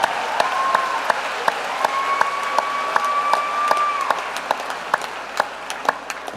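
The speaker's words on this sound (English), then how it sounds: "Let's give our magna cum laudes a round of applause." An audience applauds magna cum laude graduates at an evening recognition ceremony, a steady wash of clapping over a sustained tone, thinning out toward the end with a few scattered claps.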